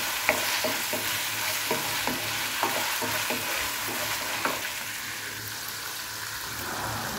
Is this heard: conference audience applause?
no